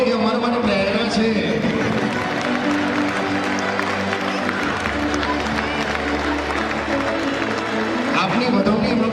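Audience applause at a school annual function, a dense steady clapping from a crowd lasting the whole stretch, with voices and crowd noise mixed in underneath.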